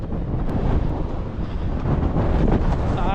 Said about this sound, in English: it's quite windy today as well